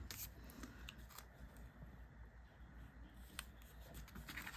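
Scissors cut card for a stamped note, with a few faint crisp snips scattered over a quiet background and no talking.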